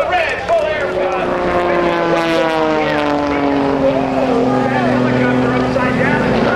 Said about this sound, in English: Helicopter upside down, and Kirby Chambliss just came in too.